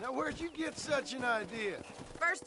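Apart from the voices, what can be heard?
No everyday noises stand out.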